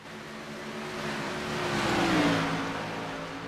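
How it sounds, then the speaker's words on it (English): Race car engine revving in a steady sustained drone that swells toward the middle and eases off slightly, with a rising harmonic as the revs climb; no talk over it. "enjoy the sounds of these beautiful race cars"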